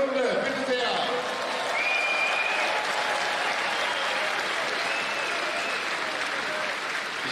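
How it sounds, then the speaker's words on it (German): A big crowd applauds steadily at a Christmas singing event in a stadium as boys' choir singers come onto the stage. The clapping is even and sustained, with a few faint whistles over it. "die Sängerknaben kommen jetzt auf die Bühne mit einem Applaus der Runde"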